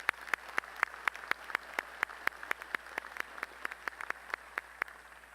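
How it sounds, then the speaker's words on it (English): Audience at a Lamar University College of Business commencement claps in a steady, moderately sized round of applause, individual sharp hand claps standing out at a fairly even rhythm from a little distance. "can we give him a round of applause again,"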